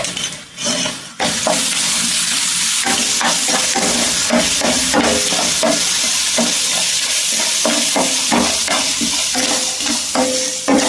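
Crushed green chilies frying in a hot pan for a puffed-rice breakfast dish, a loud continuous sizzle broken by repeated sharp knocks and scrapes of a stirring spoon against the pan.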